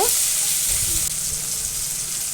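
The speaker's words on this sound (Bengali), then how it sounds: "এবার দিয়ে দিচ্ছি টমেটো কুচি কাঁচা লঙ্কা কুচি গ্রেট করে রাখা আদা একটু ভেজে নেব তেলের মধ্যে" Chopped tomato, green chili and grated ginger fry in hot oil with a loud, continuous close-up sizzle and hiss, steady throughout with no talking.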